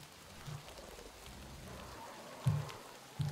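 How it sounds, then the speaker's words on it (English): Steady rain in the Metro Exodus game, a soft continuous patter at low level with a couple of brief louder thumps near the end. "here are loads of sounds and the rain is actually mixing my senses up."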